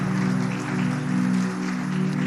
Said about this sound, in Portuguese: Essas palmas aí é para Deus